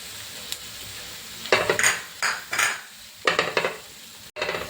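Spices such as pepper, turmeric and garam masala are stirred and sautéed in a pan for chicken curry, with a soft sizzle and several scraping strokes of a spoon in short bursts.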